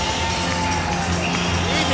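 A packed arena crowd roars and cheers nonstop as the wrestler Yoshinobu Kanemaru makes his entrance, a dense, loud wash of voices.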